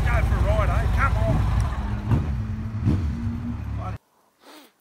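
A Harley Davidson Ultra Classic motorcycle with over 200,000 km rumbles close by at a steady low throb, with voices talking over it, before the engine cuts out abruptly near the end, leaving brief quiet and a faint noise.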